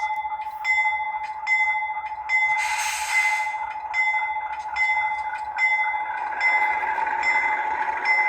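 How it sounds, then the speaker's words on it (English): An HO scale Rapido C36-7 model diesel locomotive in Norfolk Southern livery sounds its horn three times in short separate blasts, over a steady electronic tonal hum. "I honked the horn 3 times as the front, short hood is the rear."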